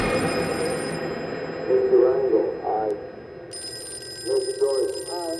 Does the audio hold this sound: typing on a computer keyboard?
no